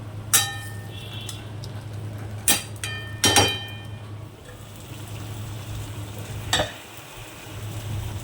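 A spoon stirring an eggplant and fried fish curry in a pan, several metallic clinks and scrapes against the pan at irregular intervals over a low steady sizzle and hum.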